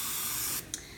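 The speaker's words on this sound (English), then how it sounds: "you just have to pump the handle a few times and then it spritzes out just like a really fine mist" A pump-action kitchen spritzer sprays a fine oil mist in a steady close hiss, then a short second puff near the end.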